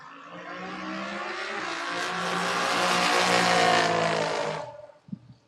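A drag-racing Camaro launches and roars down the strip against a motorcycle, one loud sustained engine note climbing and holding for about four seconds before cutting off abruptly, with brief clatter after.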